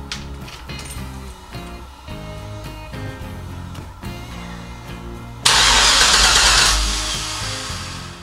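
An LS V8 engine in a Factory Five Cobra kit car being cranked, with the starter whirring in a repeating rhythm for several seconds before the engine catches and roars loudly, then settles slightly, close by with no talk.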